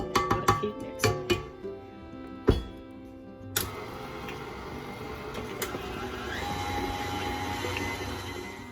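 An electric mixer works oatmeal raisin cookie dough, opening with a burst of clanks and knocks before settling into a steady, moderate motor whir.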